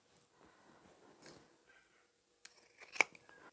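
Scissors snip fabric corners of a sewn tote bag near the stitching line, a few quiet cuts and rustles with one crisp, louder snip near the end in an otherwise quiet room.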